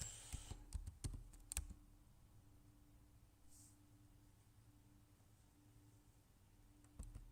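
Keys tapped on a computer keyboard while searching for a university scholarship: a quick cluster of sharp clicks at the start, then a long quiet stretch, and a few final taps near the end, close and fairly soft.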